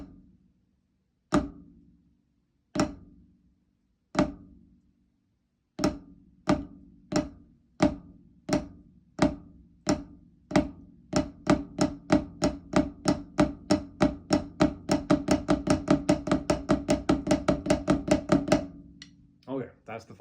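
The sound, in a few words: drum flam rudiment played with sticks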